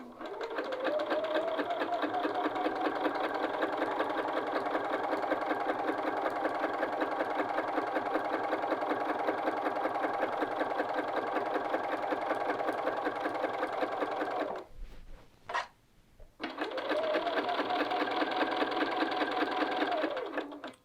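A sewing machine runs steadily, stitching across fabric 5/8 inch from the cut edge, a loud close mechanical whir that halts briefly near the end before starting up again.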